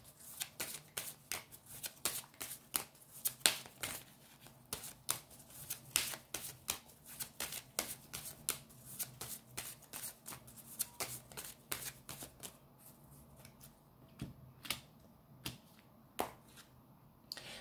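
A tarot card deck being shuffled, with a long run of crisp, rapid card riffles and flicks in a quiet room, no voices.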